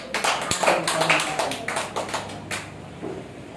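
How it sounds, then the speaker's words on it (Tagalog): A church congregation claps after a sermon, with dense, fairly loud applause that peaks early and then thins out into a few scattered claps. "Malakas na palakpak"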